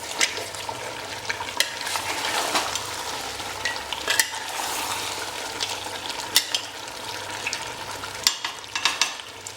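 Spicy mutton curry masala sizzling and being stirred in a pan, a continuous close frying hiss broken by scraping stirs and occasional louder clatters of the spoon, with no talking.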